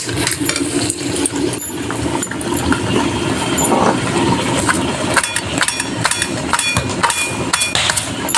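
Garlic cloves are crushed for cooking a fish-head and taro dish, heard as a close series of firm, irregular pounding knocks over a steady background hum with no talking.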